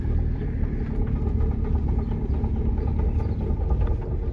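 A car with a bad transmission and a suspected shaft bearing fault drives along, giving a steady low engine and road rumble inside the cabin with no talk.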